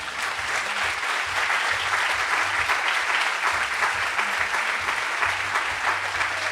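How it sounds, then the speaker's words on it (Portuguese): Loud, close audience applause at a Portuguese-language talk: a thick, continuous roar of many people clapping, holding steady from start to finish without speech. "Vamos aplaudir."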